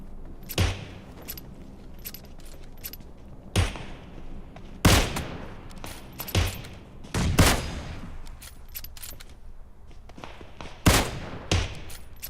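No-scope gunfire in PUBG Mobile: sharp, isolated shots fired one at a time at irregular intervals, some sounding close and loud with brief echoing tails, others fainter.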